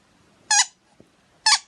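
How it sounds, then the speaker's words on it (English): Two short, high, bright squeaks from a puppet or toy called Ollie, the pair spaced about a second apart, loud and clear with a faint tap between them and otherwise quiet. "Ollie squeaks a lot"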